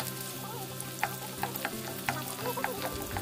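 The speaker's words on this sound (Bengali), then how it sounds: "কড়াইটা গরম হয়ে গেলে তাতে দিয়ে দিচ্ছি 2 টেবিল চামচ সাদা তেল। দিয়ে দিচ্ছি মাঝারি সাইজের ডুমো ডুমো করে কাটা 3টে পেঁয়াজ।" Diced onions hiss and sizzle in hot white oil in a wok, a steady close frying crackle with a few light stirring taps.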